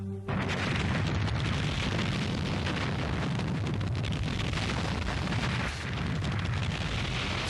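A whole planet blown up in a sci-fi scene, heard as a sustained, loud, rumbling roar that fills the entire stretch with dense low booming and crackling debris, with no talk over it.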